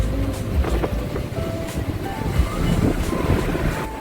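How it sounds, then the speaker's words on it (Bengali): Strong waves churn on Dimna Lake near Tata in cyclone winds, a continuous loud wash and surge with heavy wind buffeting the microphone throughout. "টানা ঘূর্ণিঝড়ের দাপটে টাটার ডিমনা লেকেও প্রচণ্ড ঢেউ উঠছে।"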